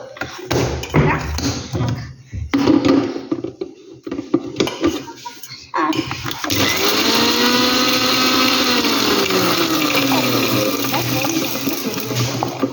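A kitchen mixer grinder blending Oreo biscuits for a cake, starting with knocks and clatter, then a loud steady whirring grind that holds for several seconds.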